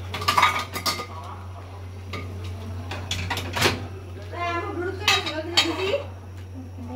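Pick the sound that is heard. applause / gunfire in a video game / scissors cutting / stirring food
stirring food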